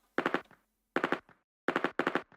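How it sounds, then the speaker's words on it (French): Gunfire sound effects layered into an FL Studio beat intro: four loud bursts of rapid machine-gun fire arrive in two pairs separated by short silences, with no talking. "Et j'ai aussi rajouté ces bruits d'armes à feu."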